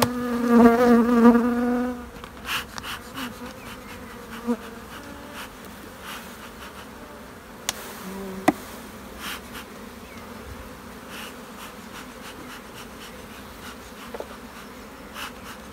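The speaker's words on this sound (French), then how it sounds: "ces colonies-là, ce sont les essaims hivernés qu'on a transvasés la dernière fois avec Mélanie" Honeybee colonies buzz at open hives of overwintered swarms. A loud, close buzz fills the first two seconds, then thins to a fainter hum broken by scattered knocks and clicks of hive handling.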